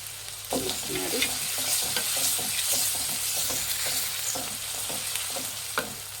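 Onions frying and being stirred in a pan over a medium flame, with a steady sizzle and repeated scraping strokes of a spoon running close and continuous throughout.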